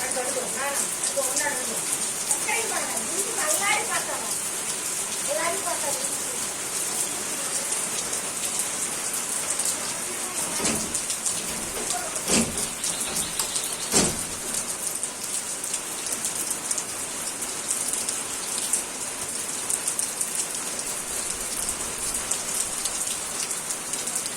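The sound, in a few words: heavy rain falling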